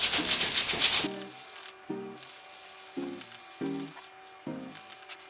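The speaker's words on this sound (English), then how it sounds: "So I'm gonna sand this smooth." Hand sanding a Bondo-filled fiberglass bumper with 100 grit sandpaper, a dense scratchy rasp for the first second, then a run of short rhythmic rubbing strokes, close and fairly loud.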